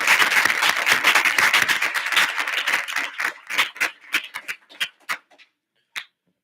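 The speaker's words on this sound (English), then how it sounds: "Please give a round of applause." Audience applause for a newly announced Internal Affairs Director at a joint student senate meeting, dense clapping from many hands that thins over a few seconds into scattered individual claps before fading out.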